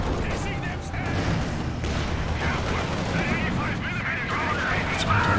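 Gunfire and artillery booms from a Company of Heroes 2 tank battle crackle in bursts under continuous talk.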